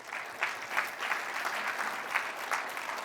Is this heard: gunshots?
no